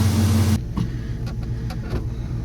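A barn-find Chevrolet C10 pickup truck's engine runs at a low steady idle, a fairly quiet rumble with a few light clicks and knocks, after a louder burst at the start.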